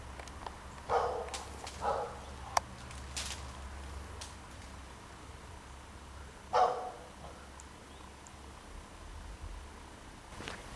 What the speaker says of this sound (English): Same damn dogs.